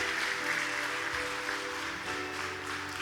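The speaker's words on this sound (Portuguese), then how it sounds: "Pode aplaudir a Jesus se você crê na palavra." A church congregation applauds Jesus during a sermon at a Lord's Supper service, steady dense clapping filling the room with soft background music underneath.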